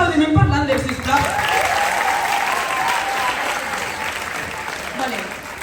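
Loud, sustained applause from a school audience at an end-of-year secondary school ceremony, dense clapping filling the whole stretch with a faint voice underneath near the start.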